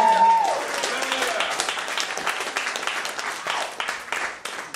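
Comedy club audience applauding a stand-up comedian, steady dense clapping from a crowd filling the room, loud and sustained, with a voice speaking briefly over the start.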